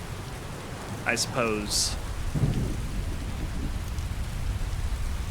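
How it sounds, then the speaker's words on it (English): Steady rain hisses throughout a stormy Skyrim game scene, with a low rumble of thunder midway, while someone speaks briefly over the downpour. "Ugh, all this rain. Well, that just means that it's time for some lightning,"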